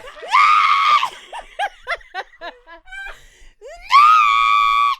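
A voice imitates a cat-like screaming sung note with a sustained shrill belted wail, a string of short yelping bursts, then another long screamed note at the end, loud and close.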